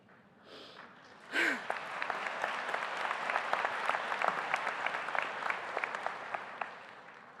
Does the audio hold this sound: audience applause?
yes